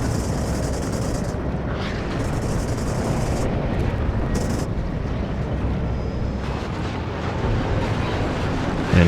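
A crashing Russian helicopter in the game Warno, with a dense, continuous roar of rotor and explosion rumble that stays loud throughout, swelling slightly near the end, with no talk.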